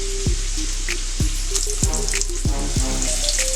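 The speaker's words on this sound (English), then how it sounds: "Quick saute job here." Sandwich meat is sautéed quickly in a hot pan for an East Coast Dagwood-style sandwich, giving a steady loud sizzle. Several sharp scraping or tapping strokes recur roughly every half second, with no voices.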